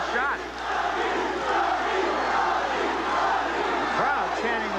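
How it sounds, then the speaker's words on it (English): Boxing crowd at a WBO middleweight title bout between Doug DeWitt and Robbie Sims chanting a fighter's name, a loud, dense roar of massed voices rising and falling in rhythmic swells throughout, with no commentary over it. "Crowd chanting, Robbie, Robbie."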